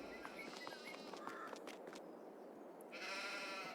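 Sheep bleating faintly in the video game Farming Simulator 22, a few soft, distant calls over a quiet farmyard background with no talking.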